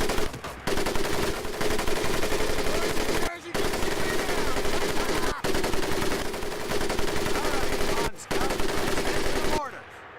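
A machine gun fires in the Medal of Honor video game, long sustained bursts of rapid loud shots broken by a few brief pauses, close and dominant.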